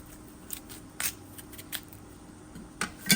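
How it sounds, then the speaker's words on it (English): A knife or scissors cuts a carimanola in half, giving faint, scattered crisp snips and crunches against a quiet background. "Okay, so this one was easier. Let's cut it in half."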